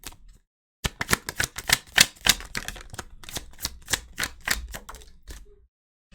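Rapid riffling clatter of tarot cards being shuffled for a reading, a dense run of crisp flicking bursts lasting several seconds after a short pause, close and fairly loud with no talk.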